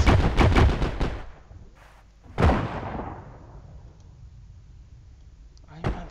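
Gunfire rings out in the shooter game Heroes and Generals: a quick string of sharp shots, then a single loud crack that echoes and fades, and another shot near the end.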